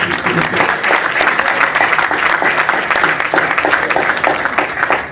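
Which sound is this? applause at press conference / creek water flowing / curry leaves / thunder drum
applause at press conference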